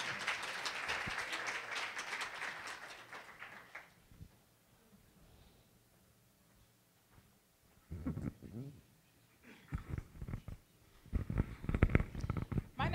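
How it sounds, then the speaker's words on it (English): Conference audience applauding as the next presenter steps forward, a dense burst of clapping for about four seconds that fades into quiet room noise before a few knocks and shuffles. "Let's give her a round of applause as she comes forward."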